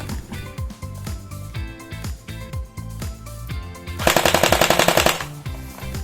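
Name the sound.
Tokyo Marui G36C airsoft gun test firing fully automatic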